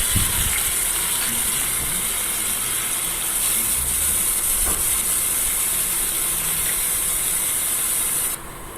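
Cumin seeds sizzling in warm oil in a pan, cooked for a paneer, carrot and pea curry. A dense, steady hiss and crackle runs loud and unbroken, then drops abruptly near the end.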